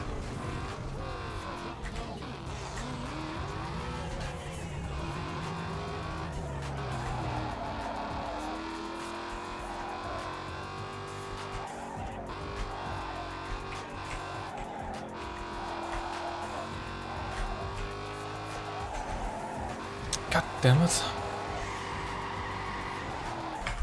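Engine roars and tires skid in the Need for Speed Underground 2 racing game, a continuous revving drive with squealing slides and a sharp impact near the end, while a player swears briefly over it.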